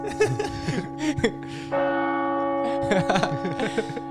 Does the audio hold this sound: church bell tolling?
yes